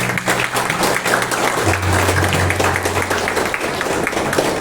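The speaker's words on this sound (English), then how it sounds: "A huge round of applause to everyone present here." Audience applause at a car launch event for the new JSW MG Hector, a dense, steady round of clapping from a crowd lasting several seconds, with a low hum underneath.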